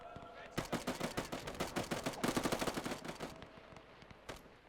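Rapid bursts of rifle and machine-gun fire from soldiers in a World War One trench battle game, dense crackling volleys for several seconds that thin out to a few isolated shots at the end.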